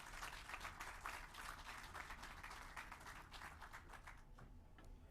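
A crowd applauds outdoors at a city real estate announcement beside the Hank Aaron statue in Atlanta, with dense, steady clapping heard from a distance that fades slightly toward the end.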